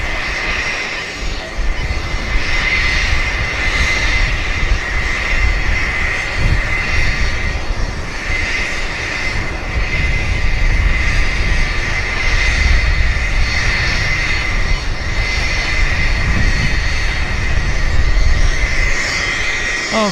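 Jet engines of a WestJet airliner at Vancouver Airport on a morning, a loud sustained roar and whine that swells and fades slightly over time, with no voices.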